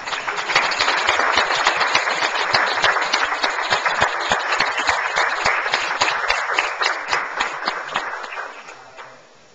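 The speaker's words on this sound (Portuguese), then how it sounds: "peço aos nobres pais e ao público presente que façamos uma salva de palmas" A chamber audience at a municipal council session applauds in a congratulatory tribute, dense steady clapping from many hands lasting about nine seconds before fading out at the end.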